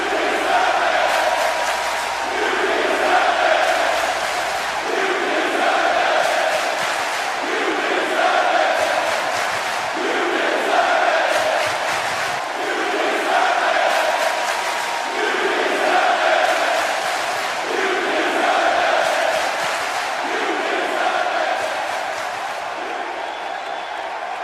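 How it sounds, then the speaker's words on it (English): Large arena crowd in Sacramento roaring and cheering at a title-fight event, a loud continuous wall of voices with rhythmic swells of chanting and whoops throughout. "listen to this crowd in Sacramento"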